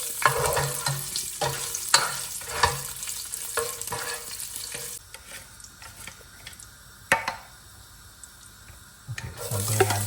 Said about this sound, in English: So I added the curry leaves and the chilies. So we're just going to saute it for some time.